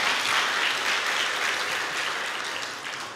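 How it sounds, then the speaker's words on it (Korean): A church congregation applauds during worship with a steady, even patter of many hands clapping that continues unbroken and eases slightly at the end. "하나님께 박수."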